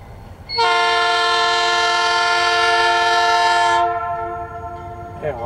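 A GE locomotive leads a long freight train past with a loud, sustained multi-tone horn blast of about three seconds. The horn tails off, leaving rumbling rail noise underneath.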